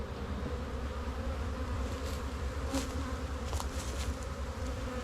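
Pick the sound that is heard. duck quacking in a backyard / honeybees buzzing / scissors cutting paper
honeybees buzzing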